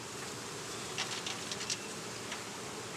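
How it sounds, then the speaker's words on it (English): Honeybees at an opened hive give off a steady, soft buzz, with a few slightly louder passes as bees fly close. "Got a bee chasing my hand."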